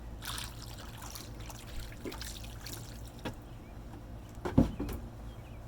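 Water trickles and splashes over an outdoor cleaning glove in short irregular bursts, close by and fairly quiet, with a brief louder splash near the end.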